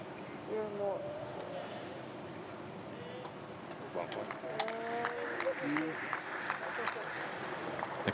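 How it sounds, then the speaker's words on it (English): Spectators clapping at a neighbouring boccia court at the Tokyo 2020 Paralympic Games, a diffuse patter of applause from a distance beneath a commentator talking. "The clapping you can hear is from one of the other courts where Portugal are also playing"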